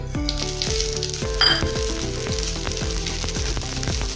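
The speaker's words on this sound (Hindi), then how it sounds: "पैन में हम तेल डालेंगे थोड़ा सा। अब इसमें हम राई डालेंगे।" Mustard seeds hit hot oil in a pan and sizzle loudly, a dense crackling fry with rapid popping that stays strong for the whole few seconds, close up and with no talking.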